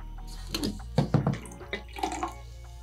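Soda is poured into a mixed drink that holds bacon and a pickle. Short, close splashing pours come in a few separate bursts against a quiet room.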